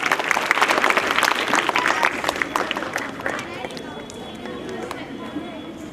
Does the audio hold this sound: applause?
yes